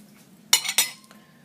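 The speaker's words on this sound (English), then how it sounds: "Let's go ahead and remove A. Nice slice of cake on the plate." Two quick metallic clinks of a utensil against a plate ring out close together as a slice of cake is lifted onto it, in an otherwise quiet room.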